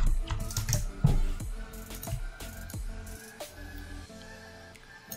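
Typing on a computer keyboard while building a game in Scratch, a short burst of key clicks near the start that fades into quieter tapping with faint background hum.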